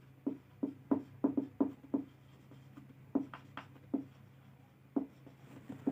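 A pen or chalk writes out a question word in a quiet room, making a run of soft, irregular taps and short scratches with brief pauses between strokes.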